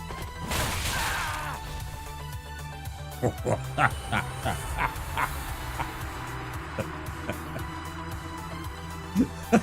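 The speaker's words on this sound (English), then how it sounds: "Dogs in this game are rude." Dogs in Dark Souls attack in a pack, with a series of sharp game impacts and snarling bursts spread across the clip under a quiet game soundscape.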